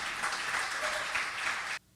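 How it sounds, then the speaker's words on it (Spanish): Church congregation applauding during a sermon, a full, even wash of clapping lasting nearly two seconds before stopping sharply. "Denle un aplauso al Señor,"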